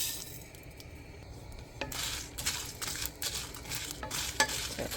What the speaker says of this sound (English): we're going to put all our ingredients in there and fry it all together for like 2 to 3 minutes